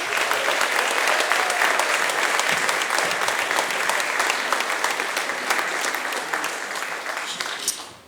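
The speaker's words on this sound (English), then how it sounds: "Give her a round of applause." An audience at a live fintech show applauds to welcome a guest, a loud, full round of clapping that holds steady for several seconds and then tapers off toward the end.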